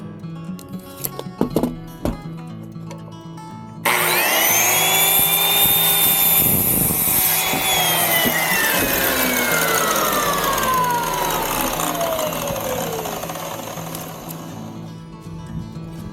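Power saw cutting through wood, starting abruptly and running loud and steady for about eleven seconds with a descending whine as the blade works through the cut, then winding down.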